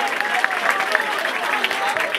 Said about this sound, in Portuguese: Ei, rapaziada, vamos liberar as palmas aí, por favor,